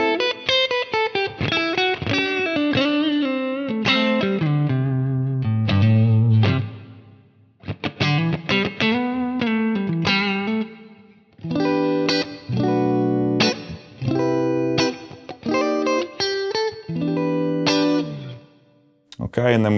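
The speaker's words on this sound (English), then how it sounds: "this is how the Morgan 50 sounds." An electric guitar runs through a Quad Cortex modeling a Morgan 50 valve amp with reverb, playing clean chords and melodic phrases in bursts separated by short pauses, with sustained ringing notes and a roomy tail.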